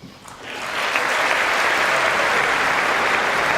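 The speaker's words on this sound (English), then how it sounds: "you're sitting there, you're clapping, kind of, and then all of a sudden, there's a wave of it" Congress audience breaking into applause during a presidential speech, starting thin and swelling within a second into a loud, dense, sustained wave of clapping.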